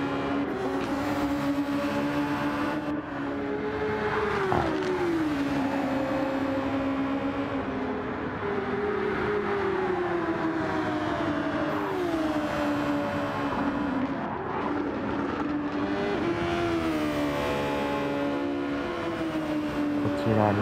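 Super Formula race cars at Fuji Speedway in the video game Gran Turismo 7 whine continuously at high revs, engine tones sweeping up and down through gear changes and corners.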